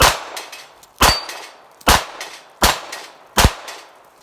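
Pistol shots fired at steel plates on a shooting range, five loud sharp cracks spaced roughly evenly about a second apart, each followed by a brief ringing decay.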